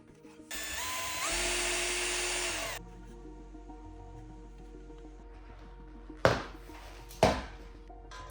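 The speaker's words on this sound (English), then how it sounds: "We'll drill 3 holes to install cable glands." A power drill bores into an electrical junction box to make holes for cable glands, one loud sustained whine of a few seconds, followed later by two short sharp bursts against a quiet background.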